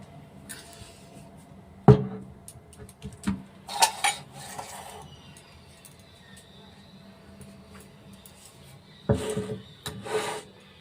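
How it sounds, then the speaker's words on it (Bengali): Mustard seeds and green and red chilies are ground on a stone slab (shil), heard as intermittent rough rubbing and scraping strokes with a few hard knocks, separated by quiet gaps. "আমি ততক্ষণ শিলে এটা বেটে নিই"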